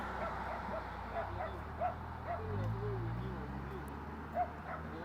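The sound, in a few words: dogs barking at a dog park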